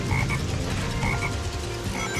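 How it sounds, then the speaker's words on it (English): A frog in the Sonic Heroes video game croaks in repeated short bursts, close and loud over busy, dense game background sound. "Hey, there's a frog over there."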